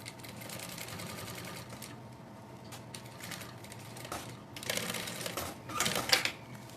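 Sewing machine stitching the lining of a fabric bag, a faint steady mechanical whirr with short louder bursts of rapid needle chatter toward the end.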